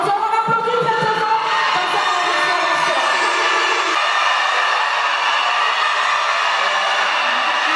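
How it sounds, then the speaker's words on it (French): At the final of a school and science festival, a crowd applauds and cheers loudly, with shouts and whoops early on settling into a sustained wash of clapping. "on applaudit directement"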